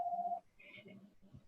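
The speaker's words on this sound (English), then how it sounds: "Hopefully Russ will pick up that phone." A telephone tone sounds steadily for a brief moment as a call is dialed, then gives way to quieter room sounds and murmuring.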